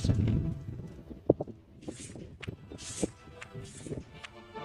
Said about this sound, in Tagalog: Yung kabayo